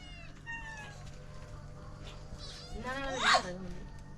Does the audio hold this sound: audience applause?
no